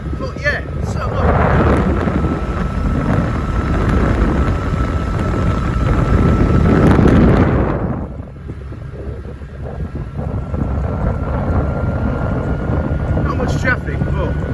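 Motorbike ridden along a quiet jungle road near Bang Chang, Rayong, with strong buffeting wind noise and engine drone that briefly drop and then carry on. The rider speaks over it.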